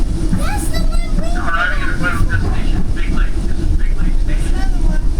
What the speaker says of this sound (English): There goes another train.